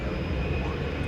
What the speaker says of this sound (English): FedEx Airlines coming to DFW right now before they take off